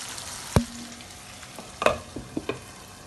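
Chicken simmers covered in its own juices in a pan, a soft steady sizzle broken by a few sharp clinks and stirring knocks.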